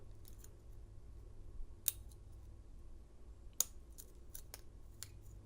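Small metallic clicks from a lock pick working the serrated pins of an American 700 padlock, two sharper snaps standing out over a faint, steady low hum, close and quiet with no talk.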